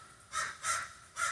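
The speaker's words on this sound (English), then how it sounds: "the crows are making noise" Three harsh crow caws at an even pace, each a short raspy burst standing out over a quiet background.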